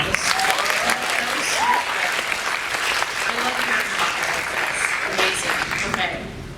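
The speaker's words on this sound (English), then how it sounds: "Can we give a round of applause?" Keynote audience at a comic convention breaks into sustained applause, a thick wash of clapping with some cheering and voices mixed in, steady and loud throughout before easing at the end.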